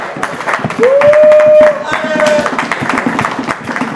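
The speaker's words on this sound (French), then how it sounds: "Applaudissez, tapez des mains, tapez des pieds" An audience at an album-launch party claps hands in a dense, lively burst, with a brief whistle-like tone rising over it and voices mixed through the crowd noise.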